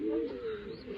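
Young pigeons in a loft giving a short, close, warbling coo that lasts about a second.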